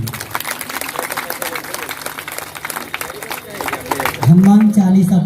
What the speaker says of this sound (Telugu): మీ అందరికీ మీకు మీరుగా ఒకసారి గట్టిగా చప్పట్లు కొట్టుకోండి